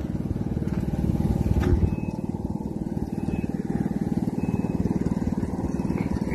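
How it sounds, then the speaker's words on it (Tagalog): A motorboat passes along a high river beside a campsite, giving a steady, moderately loud engine putter with a fast pulsing rhythm throughout and no talking. "May dumadaan na bangka."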